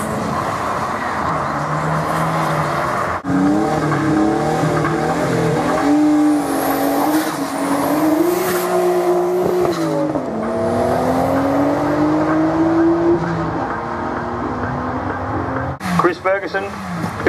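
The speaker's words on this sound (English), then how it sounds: "snap, crackle, pop of exhaust, massive wheel spin." A club race car at the Mt Alma Mile hillclimb revs hard, its engine climbing and falling in pitch with crackling exhaust pops and massive wheel spin, while loud commentary runs over it throughout.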